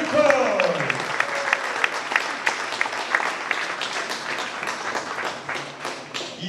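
Audience applause greeting a table tennis player's introduction at a Morez Jura club match against Les Loups d'Angers, a steady crowd clapping that opens with a brief voice and gradually softens.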